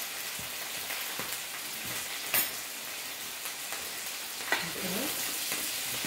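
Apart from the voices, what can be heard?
stirring pinakbet vegetables frying in a pan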